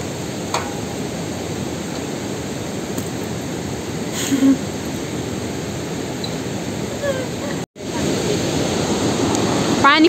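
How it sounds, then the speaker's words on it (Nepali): Seti River rushing in full flow, a steady broadband roar of fast-moving water heard close, with a brief cut near the end and no clear speech. "पानी कस्तो उर्लेर आइरहेको"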